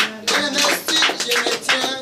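Church congregation clapping in acclaim of the Lord, several loud bursts of applause, close and uneven, with brief gaps between bursts and a few voices mixed in.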